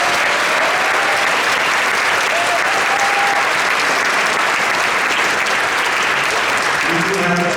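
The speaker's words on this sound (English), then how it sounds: "Big round of applause for them." A crowd at a Rensselaer Junior Senior High School graduation ceremony applauds the teachers with loud, continuous clapping and faint cheers, and a voice rises briefly near the end.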